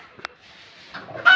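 Farm chickens let outside into a banana grove give a short cluck or two, then a louder squawking burst near the end, over a quiet outdoor background.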